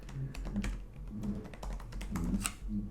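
Someone typing a title on a computer keyboard, a run of quick, light key taps at close range with uneven rhythm and small pauses, no talking.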